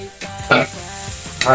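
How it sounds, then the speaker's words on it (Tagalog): Garlic, onion and ginger are sautéed in a pan for a Filipino fish dish, with a steady close sizzle of frying broken by quick bursts of stirring scrapes, no voices over it. "Gigisahin natin yung ahos at malit mamigos, luya."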